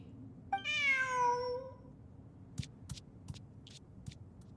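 A single drawn-out cat meow from the video game Genshin Impact rings out clearly, followed by a few short clicks and taps against a quiet background.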